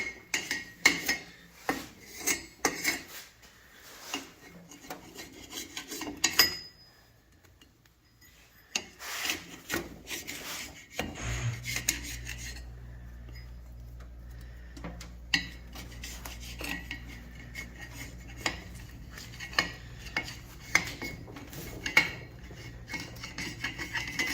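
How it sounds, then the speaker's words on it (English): A carbide scraper rasps a gasket off a Subaru EJ25 cylinder head in quick, close scraping strokes with metallic clinks, then gives way to a steady low hum. "this is a carbide tool we got off Amazon. that we're going to use to scrape off the gasket real quick and simple"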